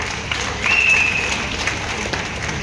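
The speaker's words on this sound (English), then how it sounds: "So let us give a huge round of applause for Xavier" Applause from an audience at a company program in Kerala, with steady clapping and a brief swell of crowd noise at moderate volume, plus faint talk in the background.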